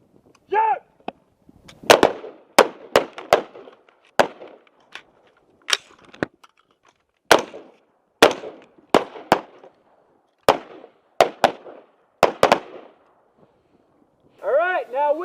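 Sharp gunshots from a tactical training drill, fired as single and paired shots at irregular intervals, loud and close, with brief talk before and after.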